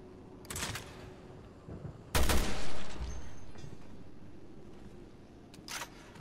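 Gunshots in the survival horror game Resident Evil Revelations 2: a few sharp bursts of gunfire, one loud blast followed by a lingering rumbling tail, with quieter shots before and after.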